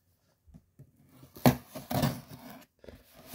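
Scissors cutting open plastic-wrapped CD and Blu-ray packaging, a few soft snips followed by louder crinkling cuts and tearing, close and quiet.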